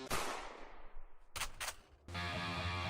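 A gun firing in a video game: one loud close shot with a decaying tail, then two quick sharp cracks, then a steady game sound carrying on underneath.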